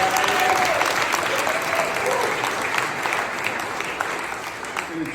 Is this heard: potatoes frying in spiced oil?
no